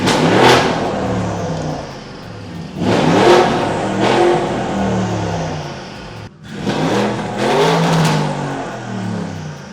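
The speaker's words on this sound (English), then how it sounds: "Boost Logic have now developed a exhaust for the RSQ8. We're gonna have a listen." An Audi RSQ8 with upgraded turbos, downpipes and a Boost Logic exhaust revs hard three times, each loud close roar climbing then falling away, with no talk over it.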